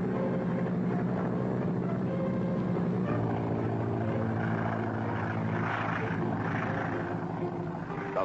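A Boeing B-17 Flying Fortress bomber takes off, its piston engines and propellers droning loud and steady throughout, with the pitch shifting slightly as it climbs away.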